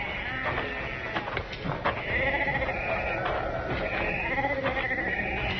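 Sheep bleat repeatedly in an old-time radio western scene, a flock's wavering cries continuing throughout at moderate loudness with faint background voices.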